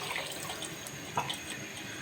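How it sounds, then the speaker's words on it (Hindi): Water poured into a cooking pot of rice and carrots makes a steady splashing trickle with a brief louder gurgle midway. "तो मैं इसके अंदर डाल रही हूँ पानी"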